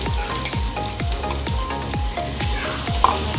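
Ground masala paste of onion, tomato, ginger, garlic and curry leaves sizzles loudly in a hot pan. A steady frying hiss runs throughout, with a spatula scraping and stirring in a regular rhythm about every half second. No one speaks.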